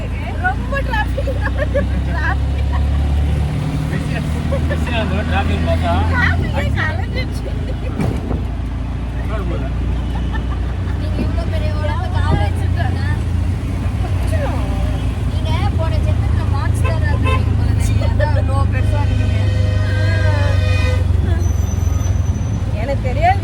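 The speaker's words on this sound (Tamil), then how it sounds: "ரொம்ப டிராஃபிக்" Heavy road traffic rumbles steadily with passing cars and buses, a horn-like tone sounding near the end, while people talk amid the noise.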